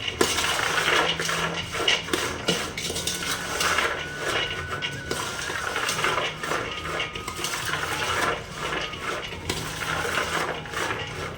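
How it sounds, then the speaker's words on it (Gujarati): Salt being stirred into a Chinese bhel mixture in a metal bowl, a continuous close rattle of spoon against the dish with dense scraping and clinking, steady and fairly loud throughout. "હવે હું છે ને આમાં નિમક નાખું છું"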